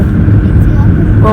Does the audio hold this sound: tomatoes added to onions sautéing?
no